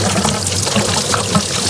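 Coolant drains from a 2013 GMC Yukon Denali into a pan in a steady, close pouring stream with a bubbling gurgle, alone and unbroken throughout.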